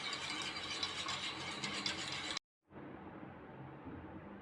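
Two eggs being beaten together in a bowl for egg pakoda, a steady busy rattling whisk sound filling the clip, with a brief dropout just after the midpoint before the mixing carries on slightly softer.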